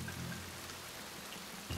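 Rain in the Shadow Tactics: Blades of the Shogun video game, a faint steady hiss of falling drops with a low hum beneath, brief and continuous.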